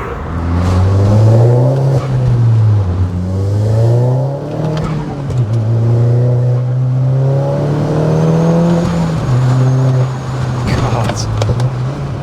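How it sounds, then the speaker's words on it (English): A 400 bhp stage 2 Audi S3 hot hatch with a diverter valve and no blow-off valve: its turbo engine revs up and down through several loud, close acceleration sweeps, with a whooshing turbo sound and a faint pop near the end. "he has got a diverter valve that just makes that amazing turbo sound that adds to the experience."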